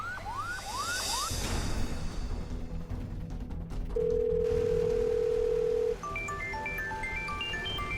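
A telephone ringing tone as a call is placed in a TV drama: a long, steady electronic tone follows a few swooping chirps, then short electronic blips over a background bed of sound.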